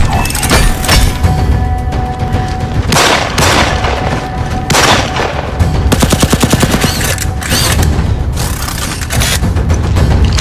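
Heavy automatic gunfire mixed with booming grenade-round blasts in an action movie dubbed in Swahili, loud and close, arriving in repeated bursts with rapid rattling volleys and no speech.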